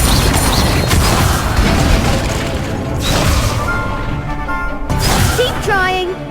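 A fire spell cast in the video game Hogwarts Legacy bursts with booming whooshes and crackling crashes, loud and dense, with a raised voice calling out over the magic effects.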